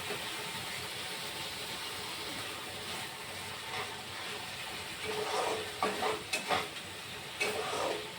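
Ginger-garlic spice paste fries in a pan with a low, steady sizzle, joined near the end by a few scraping stirs of a spatula.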